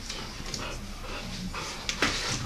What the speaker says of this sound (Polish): jaki dobry piesek